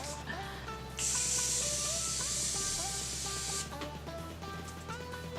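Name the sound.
spraying Morphe Continuous Setting Mist on face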